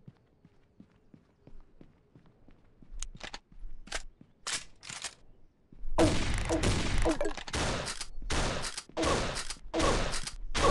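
Gunfire in the mobile shooter Pixel Gun 3D: quiet footsteps and taps, then scattered sharp shots that build into rapid, dense bursts of fire during a squad match, with no voices.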